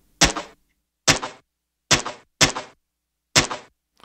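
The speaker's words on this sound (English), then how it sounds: "Take a listen again to this gunshot." Five sharp, dry gunshot sound effects crack out at irregular intervals, each a sudden bright burst that decays quickly and is thin on low-end weight, with silence between them.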